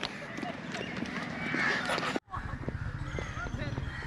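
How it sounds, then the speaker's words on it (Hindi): Horses walking at a safari park in Lahore, hooves clip-clopping in an uneven rhythm close by, with camels nearby and people talking over the hoofbeats. "कैमल्स हैं, ये घोड़े भी हैं।"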